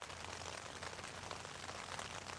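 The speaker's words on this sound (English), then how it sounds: "We got rain" Rain patters steadily on a Sea to Summit Telos tent, a dense, even hiss of countless drops striking the fabric, faint and continuous with no voices.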